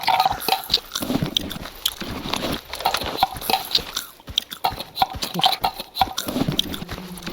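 A horse chews noisily with its mouth open in the game STALKER Anomaly, a steady run of wet crunching bites and smacking close by, with clattering movement sounds mixed in.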